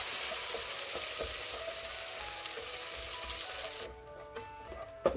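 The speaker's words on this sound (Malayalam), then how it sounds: "ഇനി ഇതിലേക്ക് കിസ്മിസ് ഇട്ട് വറുത്ത് കോരിയെടുക്കണം" Raisins sizzle in hot ghee for vermicelli payasam, a soft steady frying hiss close by that drops away sharply near the end, followed by a few faint clinks.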